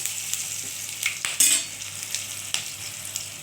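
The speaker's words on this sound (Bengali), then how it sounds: "কাঁচা লঙ্কাটা এটা একটু ভালোভাবে ভাজা করে নেব" Green chilli fries in a pan with a soft, continuous sizzle up close, broken by a few scraping and clinking stirring strokes.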